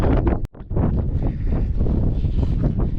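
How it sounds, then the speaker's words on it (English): Strong gusting wind with sandstorms buffets the microphone in a continuous loud roar, briefly dropping out for a moment before gusting back. "Now it's been gusting, some sandstorms"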